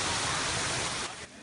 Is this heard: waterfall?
yes